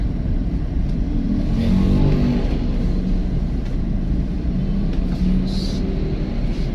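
A car engine hums low and steady during a driving lesson on a public road, swelling slightly as it accelerates, while a couple of short spoken remarks sit over the rumble.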